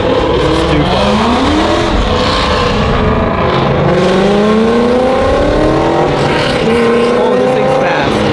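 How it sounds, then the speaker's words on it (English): A car doing a burnout, its engine revving hard in loud rising and falling sweeps while tires squeal and roar, with excited voices talking over it. "Oh, we got another one doing a burnout."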